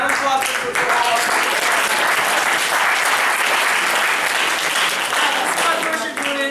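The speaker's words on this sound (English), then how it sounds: "round of applause for all of us." Sustained loud applause from an audience at a high school JV and varsity awards night, dense clapping that continues steadily from start to finish.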